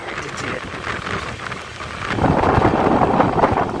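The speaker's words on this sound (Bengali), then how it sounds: "বৃষ্টি পড়েছে।" Steady rain falls outside a moving train on the way into Kharagpur under a dark, stormy sky, a continuous wash of patter that swells louder midway and stays dense to the end, with no voices.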